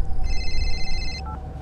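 A mobile phone rings in a video game, with a steady electronic ringtone that lasts about a second over a low background hum, followed by a short higher beep.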